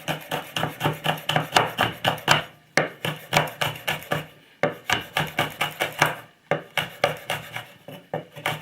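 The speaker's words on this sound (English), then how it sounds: "So the next stage is just to chop them." A knife chops chillies on a board in quick rhythmic bursts of sharp taps, with two brief pauses between runs, close and clear.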